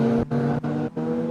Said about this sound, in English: we get the noise of the car